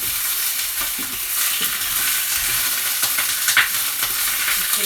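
Ingredients being stirred in a pan while coq au vin cooks, with sauce of tomatoes, red wine and flour: steady scraping and soft sizzling with light clinks, continuous and close, no talking.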